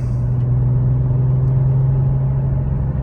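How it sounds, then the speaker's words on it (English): A Porsche 911 (997) Turbo Cabriolet engine rises in a loud, close, steady drone that holds strong through the moment of braking, with no talk over it. "the engine revving up."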